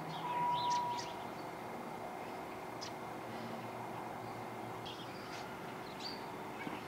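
Garden birds, including starlings, doves, sparrows and pigeons, give faint scattered chirps and short calls over a quiet background hum, with a brief soft low sound near the start.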